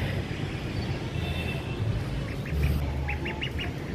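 Ducks settled in a new coop on a rooftop give a few short quacks in quick bursts, moderately close, over a steady background hum.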